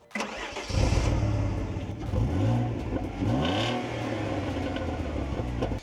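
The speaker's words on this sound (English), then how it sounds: "That engine sounds a bit like this." A small car engine starts up, then revs sharply twice before settling into a steady idle, heard up close.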